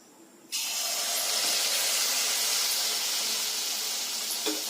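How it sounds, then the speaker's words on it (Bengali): Mango malpua batter drops into hot oil and bursts into a loud, steady sizzling hiss that starts abruptly and holds for several seconds. "এভাবে হাতার সাহায্যে অল্প অল্প করে ব্যাটার নিয়ে ওর তেলের মধ্যে দিয়ে দিতে হবে"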